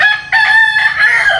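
A rooster crows loudly and close by, one drawn-out, strained crow with slight clucking inflections, clear and alone with no talk over it.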